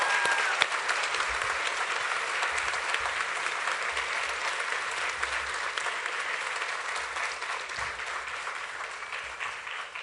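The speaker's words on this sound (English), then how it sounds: "a great big round of applause for our newly knighted Golden Horseshoe winners" An audience claps steadily for newly knighted Golden Horseshoe award winners in West Virginia, a dense, sustained round of applause with no voices over it.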